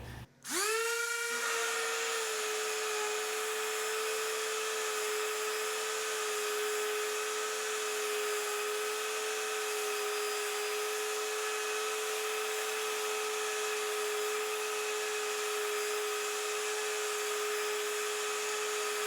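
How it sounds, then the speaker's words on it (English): An orbital sander with 60-grit paper works a wooden cutting board, giving a steady, loud motor whine with a high, even hiss that runs unbroken from start to finish. "I'm gonna start using the orbital sander, and I'm gonna start with 60 grit"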